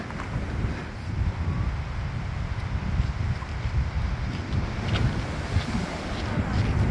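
Waves rush and churn steadily against a boat, heavy wind buffeting the microphone throughout, a constant loud roar with no clear talk.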